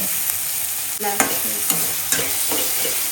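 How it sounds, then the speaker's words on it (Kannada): Onions and chilli frying with salt in a hot pan, a steady loud sizzle with a few sharp stirring scrapes of a utensil against the pan. "ಈ ಟೈಮಲ್ಲಿ ಸಾಲ್ಟ್ ಹಾಕಿ ಫ್ರೈ ಮಾಡ್ತಾಯಿದ್ದೆ"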